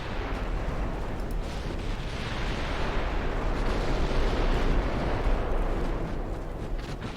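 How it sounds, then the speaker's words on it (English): Heavy, sustained rumbling blasts roll on for several seconds as a torpedo detonates and sinks a ship in a British 1900-era naval battle in Ultimate Admiral Dreadnoughts, with dense booming and crackling and no break in the noise. "Torpedo detonation, sunk."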